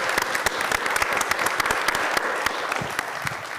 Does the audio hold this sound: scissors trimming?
no